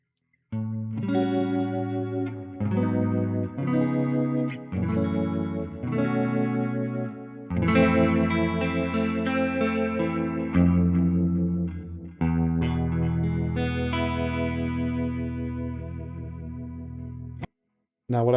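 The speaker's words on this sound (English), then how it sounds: "Now let's click on that chorus and see how they sound together." Electric guitar run through chorus and delay effects together on a HeadRush unit, sustained shimmering chords strummed in several phrases with echoing tails, then a brief cutoff near the end.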